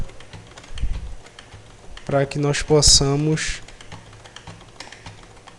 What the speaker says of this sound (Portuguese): Aqui eu vou usar o teclado